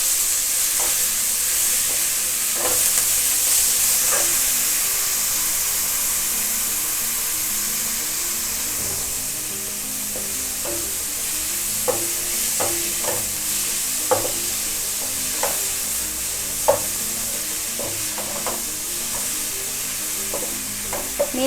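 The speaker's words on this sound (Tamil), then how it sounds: "பீட்ரூட்டை, அதை முதல்ல போட்டு தாளிக்கிறோம்." Beetroot fries with fennel in a pan, a steady close sizzle broken by frequent sharp clicks and scrapes as a spoon stirs it, with no talking.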